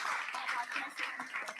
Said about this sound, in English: I just want to give one last round of applause to the panelists